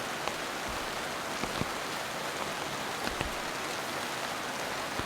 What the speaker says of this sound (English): rain is epic.